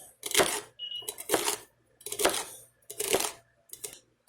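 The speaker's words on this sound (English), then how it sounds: "Alright, get my celery cut up." Celery cut with a knife on a cutting board set on an induction plate, giving five evenly spaced loud chopping thuds with brief pauses, close, with no talking.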